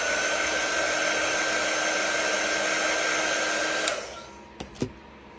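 A hair dryer blows steadily and loudly on chalk paste over a rustic round fall door sign, then cuts off near four seconds, leaving a couple of sharp handling clicks.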